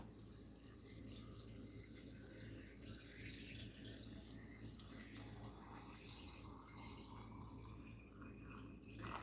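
Water pours steadily into a jar to make brine for fermenting wild garlic, a continuous faint trickling and splashing heard close by without voices.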